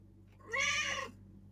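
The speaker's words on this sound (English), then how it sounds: "sorry about the cat again." A house cat lets out a single drawn-out meow close by, about half a second long, against a faint low background hum with no talking.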